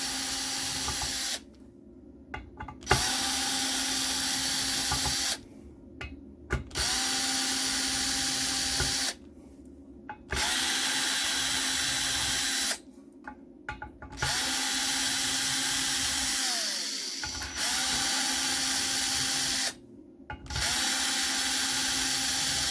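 A small assembly drive tool whirs in repeated runs of several seconds each while recovering gold from e-waste, loud and close, with brief silent gaps between bursts and faint clicks at the restarts.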